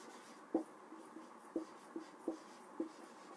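Handwriting during a class 6 maths lesson, heard as faint, sparse taps and short scratches from a pen or marker, about five distinct strokes spread unevenly over a quiet background, with no voice.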